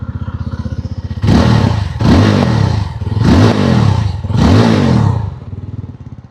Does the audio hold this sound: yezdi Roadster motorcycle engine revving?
yes